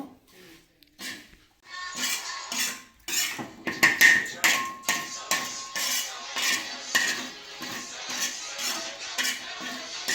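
A metal spoon steadily clanks and scrapes against a pan while food is roasted in ghee, a repeated rhythmic tapping close by with no voices.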